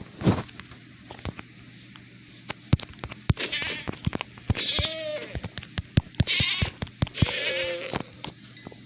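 A goat in the Minecraft video game bleats two or three times, with short wavering calls standing out over busy game noise that includes sharp clicks, a buzzing drone and a brief breathy sound.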